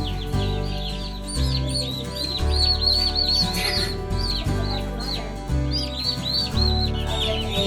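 Many small, newly hatched meat-bird chicks peep and chirp continuously at high pitch, close by, over a low droning hum of background noise.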